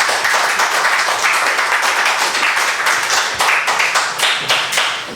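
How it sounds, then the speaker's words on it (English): Audience at a rail reunion's closing remarks breaking into sustained, dense clapping from many hands, filling the room loudly before starting to taper at the end. "I think you should give yourselves a round of applause"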